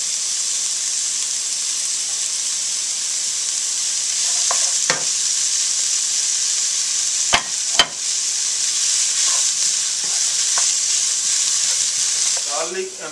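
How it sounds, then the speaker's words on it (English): Garlic, onion, celery and tofu pan frying in a pot, a steady bright sizzle running throughout with a few sharp clicks and scrapes of a utensil, close and fairly loud, no talking. "First I put the garlic, and second onion, and third celery, a little bit pan fry. Okay, now I put tofu."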